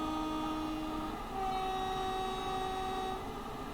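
A train horn sounds in the Train Sim World 3 video game on a Southeastern high-speed service: a long sustained tonal blast that shifts pitch about a second in and holds steady, with no talk over it.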